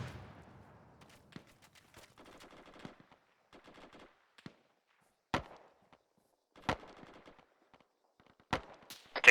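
Gunfire in a military video game during base defence: short spaced bursts of automatic fire and several sharp single cracks, fairly distant, separated by silence.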